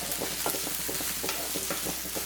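Brinjal sautéing in a pan over a low flame, a soft continuous sizzle broken by repeated scraping strokes of a spoon as the pieces are stirred, close and fairly quiet.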